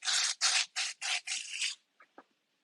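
Sandpaper rasps against the unglazed bottom of a glazed ceramic mug in five quick, even back-and-forth strokes, close and crisp, followed by a few faint taps.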